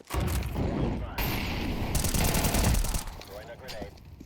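Rapid automatic assault rifle fire from the video game Counter-Strike 2 rattles in loud continuous bursts with short breaks, and mechanical clicks and other game sounds mix in.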